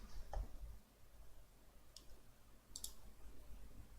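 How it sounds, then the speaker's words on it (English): Keys clacking on a Lemokey P1 Pro mechanical keyboard, a few scattered quiet clicks and small clustered taps spread across a few seconds against a soft background hiss. "pretty cool keyboard. Extremely nice keyboard."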